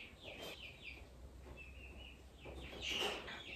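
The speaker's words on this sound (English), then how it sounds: "We got baby chickens last week, and they are chirping in the other room." Faint, high chirps of baby chickens in another room repeat a few times from a distance, soft peeps over a quiet background hum.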